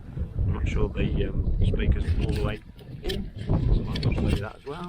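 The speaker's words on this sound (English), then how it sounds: "I'm sorry about the wind" Outdoor wind buffeting a microphone on an open golf course, a rumbling low-frequency roar that rises and falls in gusts beneath someone talking throughout.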